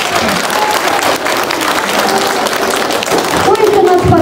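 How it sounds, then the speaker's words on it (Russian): A school audience applauds parents at a sixth-grade class performance event, steady loud crowd clapping filling the room, with voices emerging near the end. "заслуживаете отдельных аплодисментов"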